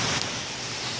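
Steady broadband rush of a large Las Vegas waterfall pours continuously and loudly, a dense unbroken wash of falling water with no voices over it.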